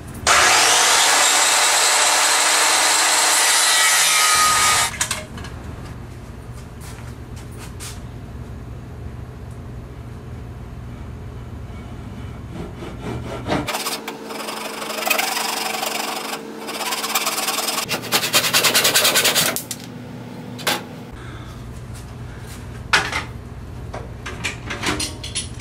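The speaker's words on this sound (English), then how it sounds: "that'll hold the wood in place while I saw this end" Sawing across the end of a wooden piece for a gumball machine head, heard as a continuous rasping with some louder, rougher stretches and short pauses. Background mechanical hum runs underneath, and no one speaks.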